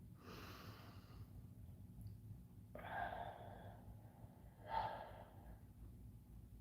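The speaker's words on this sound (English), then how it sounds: "I'll pause and I'll breathe." A person takes deep, deliberate breaths, three slow breaths spaced a couple of seconds apart, close and soft over a steady low background hum.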